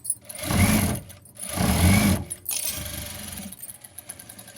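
A sewing machine runs in two bursts as it stitches along a marked line on a garment near the armhole seam, followed by quieter rhythmic stitching, close and clear with no talk.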